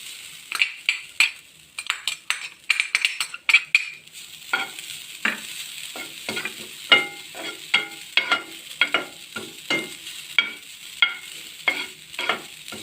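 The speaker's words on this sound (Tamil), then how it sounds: "நாம் இப்போ துருவி வச்ச தேங்காயை மிதமான சூட்டில் அதையும் வறுத்துக்கிறணும்" Grated coconut roasting in a pan over medium heat for sesame-coconut balls, a steady stream of close, crisp scraping and clinking stirs with soft sizzling underneath, repeating in quick uneven strokes throughout.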